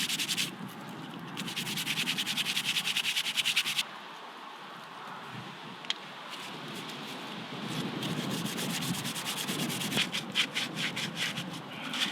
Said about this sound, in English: And then sand it back over again